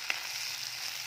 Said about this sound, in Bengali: পেঁয়াজ, ঝাল, চিংড়ি মাছ দিয়েছি তেলের মধ্যে